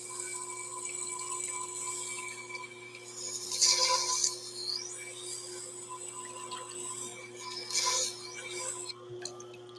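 Knives drawn across a sharpening stone, rasping strokes that swell in two distinct bursts over a steady background hum, close and moderate in level.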